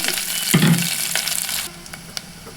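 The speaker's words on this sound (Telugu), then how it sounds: "కలర్ఫుల్గా వేయించండి, చాలా బాగుంటుంది." Sliced onions and curry leaves sizzle in hot oil for a tempering while a spoon stirs them, a close, steady frying hiss with a brief louder burst of scraping partway through, then quieter.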